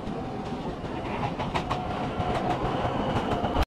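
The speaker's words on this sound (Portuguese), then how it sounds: "detalhe para a caricatura do Maradona estampada na lateral do trem" Train running along rails at a station near the Pompeii ruins outside Naples, steady rumbling with faint clickety-clack and brief metallic squeals, continuous and close, ending abruptly.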